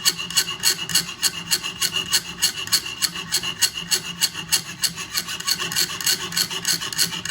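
Steady back-and-forth rasping strokes of a hand saw cutting through wood, a quick even rhythm repeated throughout, close up with no talking.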